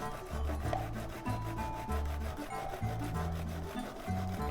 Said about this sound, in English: Grate the zucchini.